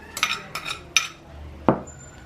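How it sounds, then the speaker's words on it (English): A utensil knocks and scrapes against a bowl as gyoza filling of onion leeks, shrimp and shiitake mushrooms is mixed. Three quick clinks come in a row, then one louder knock after a pause, close and fairly quiet, with no talking. "Mix the ingredients all together"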